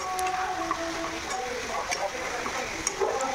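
Chicken curry for a thin summer-style chicken jhol sizzles and simmers in a pan over a medium gas flame, a steady broadband hiss with faint stirring clicks running throughout.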